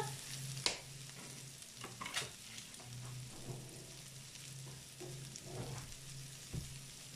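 Sliced zucchini goes into a hot pan for a vegetarian rice dish, a steady close sizzle of frying with occasional clinks and stirring scrapes, no talking.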